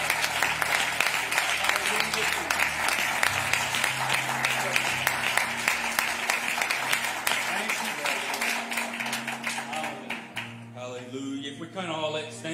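A church congregation at a Sunday morning service claps in praise, a dense, sustained patter of many hands filling the room, with music or voices continuing beneath and the clapping thinning out near the end.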